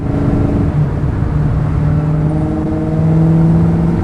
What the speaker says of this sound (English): Getting that great exhaust note from the Flowmasters